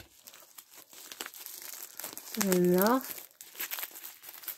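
Diamond painting kit packaging being cut open and crinkled by hand, close rustling plastic with scissor snips, while a person speaks briefly over it.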